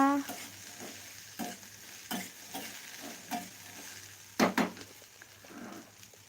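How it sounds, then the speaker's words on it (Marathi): Small-cut okra (bhindi) tossed into hot tempering oil and stirred, a soft continuous sizzle broken by repeated scraping strokes of a spatula in the pan, fairly quiet and close. "आता ही भेंडी फोडणीमध्ये घातली आता लगेच याला व्यवस्थित असं हलवून घ्यायचं"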